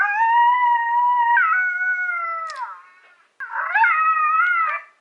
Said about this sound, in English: the next call we're going to go over is some howls.